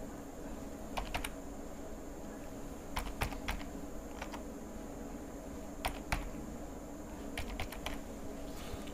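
Someone types on a computer keyboard while entering details into a scholarship application form, light scattered key clicks in small irregular bursts over a faint steady background hum.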